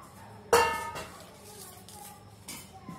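Roasted peanuts tumble into a mixer jar with a sharp rattling clatter near the start, followed by a few lighter clinks and faint kitchen noise.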